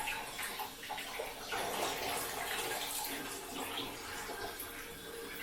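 Water streams freely through the holes of a dishwasher spray arm during a check for poor cleaning, giving a steady, quiet rushing and splashing that holds for several seconds.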